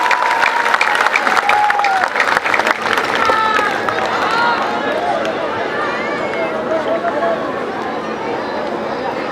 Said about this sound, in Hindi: ओकर मन के सम्मान में भी जोरदार ताली बजाए